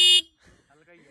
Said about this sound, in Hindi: एक बार इसका हॉर्न और सुनाओ भाई हमें